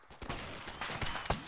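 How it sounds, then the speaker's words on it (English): Enemy machine gun fire in a video game: a short, fast run of rapid shots at moderate distance, dense and rattling for under two seconds. "they got a MG on us"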